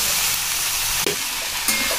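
Chopped onion, capsicum and mushroom frying in a pan, a loud, steady close-up sizzle throughout with a couple of brief stirring scrapes.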